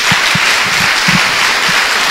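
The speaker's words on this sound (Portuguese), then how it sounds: "Dê uma salva de palmas a Jesus" A church congregation applauds for Jesus during a service, a steady wash of clapping at a fairly loud level with a few distinct low thumps scattered through it.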